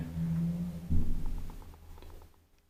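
A 1966 Kone inground hydraulic elevator mechanism gives a low hum and a brief clunk, then a run of soft mechanical clicks fading into quiet.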